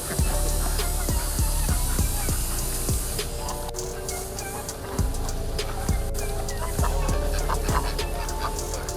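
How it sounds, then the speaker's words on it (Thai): Hungry ducks crowd in at a Thai farm as they are hand-fed, giving faint scattered quacks and calls over soft clatter and background bustle. "เป็ดก็มาเป็ดหิวใหญ่เลยอ่ะ"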